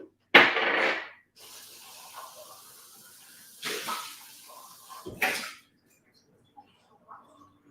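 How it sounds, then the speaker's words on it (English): Water pours and splashes into a pot of simmering split pea soup on a stovetop, a loud rushing burst first, then gentler hissing pours with short gaps, close by. "So hang on, got to add some water."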